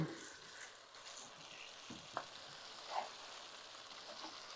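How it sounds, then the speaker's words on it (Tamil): Chopped vegetables and a little potato sauté in a pan for kootu kuzhambu, giving a steady soft sizzle with a few faint stirring scrapes and taps, close and fairly quiet. "இந்த காய் தான் நல்லா வதங்கணும் இதுலேயே வதங்கினா தான் உங்களுக்கு நல்லாயிருக்கும்"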